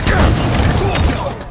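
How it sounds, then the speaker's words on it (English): A grenade blast in the Halo Infinite Slayer Fiesta match on Recharge, a loud booming burst with a rolling low rumble lasting over a second, mixed with other in-game combat noise. "Tossing a nade."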